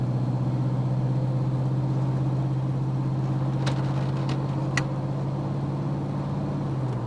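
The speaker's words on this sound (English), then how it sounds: "Start with some light throttle upshifts and feel for the 1-2, the 2-3," A car with a 4L60E automatic transmission and a newly installed shift kit accelerates under light throttle, its engine giving a steady low drone and its road noise staying constant from inside the cabin, with no voices.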